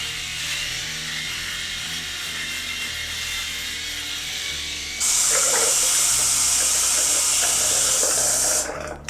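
Electric shaver buzzing steadily against stubble during a shave with little shave cream, a continuous whirring drone that shifts halfway through to a louder, harsher high-pitched whine before cutting off at the end.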